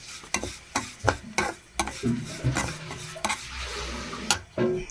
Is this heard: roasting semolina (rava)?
yes